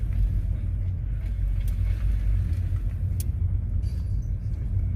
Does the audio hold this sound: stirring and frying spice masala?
no